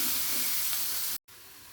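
Chopped onion and garlic sizzling steadily in a pan over medium heat, a close, continuous hiss of frying while being stirred, broken by a brief silent gap near the end.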